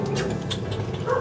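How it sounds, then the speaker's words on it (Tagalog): A neighbour's dog gives short, whimpering yips close by, a brief burst of dog vocalising over steady outdoor background noise. "Oo. May aso nga."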